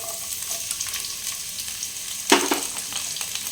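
Onion frying in oil with a bay leaf, a steady close sizzle broken by a brief louder burst of spattering and stirring partway through.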